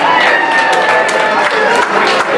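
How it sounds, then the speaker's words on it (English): A comedy show audience applauds and cheers continuously at close range, a dense, steady wash of clapping and crowd noise with no break. "We owe a big apology and round of applause for the school teachers."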